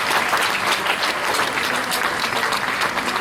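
A large audience gives a loud, dense round of applause at a school annual prize distribution, with steady clapping filling the whole stretch and no talk over it.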